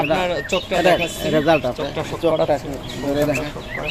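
Caged pigeons coo close by in a pigeon sale setting, a run of repeated throaty, rolling calls that overlap almost continuously.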